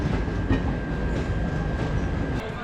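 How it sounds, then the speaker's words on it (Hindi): The Kavi Guru Express rumbles steadily into Bardhaman Junction, a continuous close train roar with faint wheel noise and a steady high tone above it, nobody talking. "बर्दवान जंक्शन पे पहुंच रही है कवि गुरु एक्सप्रेस।"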